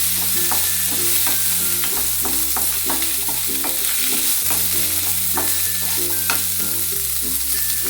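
Onions and garlic sauté in a pan while making pirandai thuvayal, a constant close sizzle broken by regular scraping taps of a spatula stirring against the pan.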